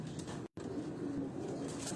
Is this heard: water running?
no